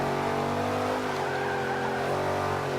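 Forza 5 race car, a GT500 with a B-class tune, its engine drones steadily and loudly with a whining harmonic pitch that sweeps slightly as it drives, alone without talk.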